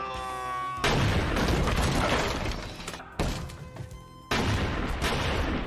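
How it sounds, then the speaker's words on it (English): Loud film shootout gunfire as a lone gunman blasts through goons in an apartment with a Bass 12 shotgun and dual pistols, heavy booming blasts and shattering crashes coming in several dense bursts with brief gaps between. "The apartment shootout has Chow Yun-Fat blast his way through multiple goons with his Bass 12 and dual pistols"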